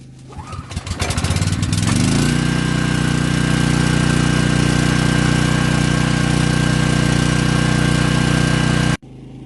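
Predator 3500 portable generator pulled to a cold start on full choke: a brief rattling pull catches quickly, then the engine runs at a steady loud drone before cutting off abruptly near the end.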